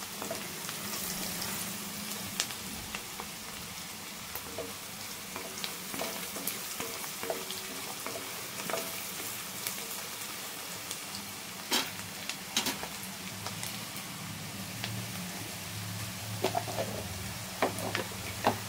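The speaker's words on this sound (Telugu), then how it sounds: "ఇప్పుడు ఇందులో ఇలా వేగుతున్నాయి కదండి" Onions fry with turmeric in hot oil for an Andhra fish curry, a soft, steady sizzle with faint crackles and pops at low volume throughout, no voices over it.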